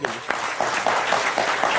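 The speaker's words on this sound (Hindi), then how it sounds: "तालियां आपके लिए" A television debate show's studio audience bursts into steady applause, a brief, moderately loud patter of many hands clapping together with no voices over it.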